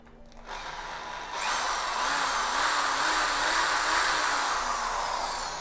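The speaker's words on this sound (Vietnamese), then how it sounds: "Chức năng khoan thường." A Makita rotary hammer drill runs in plain drilling mode, with a loud steady motor whine spinning up after a brief quieter start and holding at speed with a slight warble.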